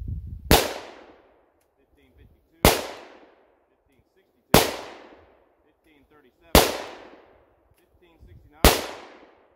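Five sharp pistol shots from a stock Glock 40 firing 10mm handloads, each a loud, close crack with a short decaying tail, spaced about two seconds apart and evenly paced outdoors.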